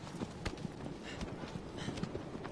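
A horse galloping in the video game Shadow of the Colossus, rapid rhythmic hoofbeats thudding steadily at moderate distance under a faint game background.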